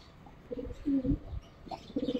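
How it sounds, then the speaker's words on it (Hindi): Pigeons coo softly nearby in a few short, throaty bursts, the gentle warbling calls repeating at low volume against quiet outdoor background. "और कुछ कबूतर हमारे इधर भी खेल रहे हैं"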